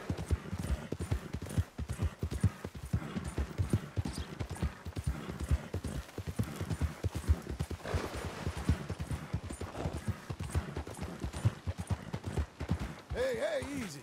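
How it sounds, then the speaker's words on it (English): Rapid, steady hoofbeats of a horse at full gallop in the video game Red Dead Redemption 2, a continuous rhythmic clip-clop with a brief snort near the end, fairly quiet. "going full speed on a horse"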